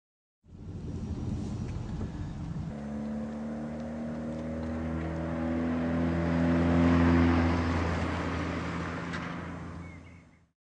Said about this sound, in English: some sort of audible warning for a car approaching